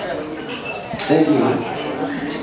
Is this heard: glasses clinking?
yes